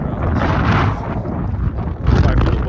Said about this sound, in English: Sorry for the wind. It's a little bit windy,